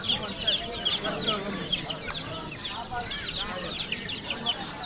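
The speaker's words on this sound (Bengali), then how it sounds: "বিগ সাইজের একটা ব্রাহ্মা মোরগ দেখতে পাচ্ছি আমরা।" A large Brahma rooster clucks at a crowded bird and pigeon market in Mirpur, its calls loud and close among other fowl, with people talking throughout the busy background.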